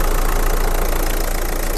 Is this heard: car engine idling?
yes